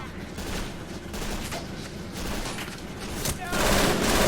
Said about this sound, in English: at least we have machine gun cover